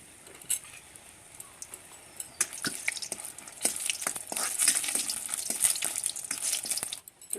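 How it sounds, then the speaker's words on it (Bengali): Bori, small lentil dumplings, frying in hot oil in a wok, giving a steady light sizzle broken by irregular clicks and taps of a utensil against the pan, close and alone with no talk. "এখন আমি এই যে বড়িগুলো আছে, এই বড়িগুলোকে একটু ভাজিয়ে দেবো।"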